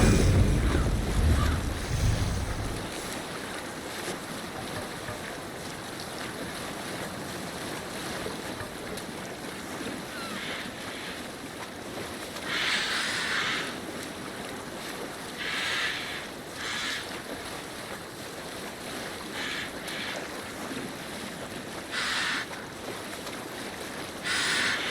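Viking longship under sail across ocean waves in Assassin's Creed Valhalla, with steady wind and rushing water, occasional splashes and creaking bursts, moderately quiet and continuous.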